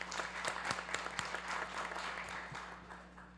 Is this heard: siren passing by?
no